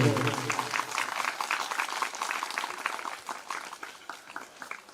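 Listeners at a live three-day Ram Katha Manas singing festival in Kanhera village near Raipur clap together, a crisp rhythmic patter that starts under a voice and continues moderately loud, fading slightly toward the end.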